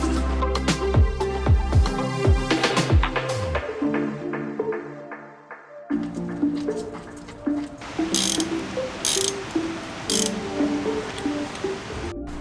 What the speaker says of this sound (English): we will loosen this drain plug and get a bucket